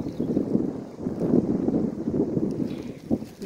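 Gusty spring wind buffeting a microphone on a mountain slope in Romania, a steady low roar that swells and dips in repeated gusts for several seconds, with no voices.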